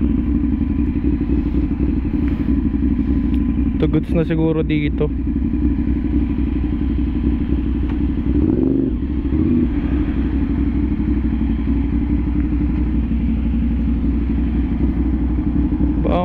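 A motorcycle idles steadily while being parked on a Manila street, with a low continuous engine rumble, a couple of brief clattering thumps, and someone talking over it.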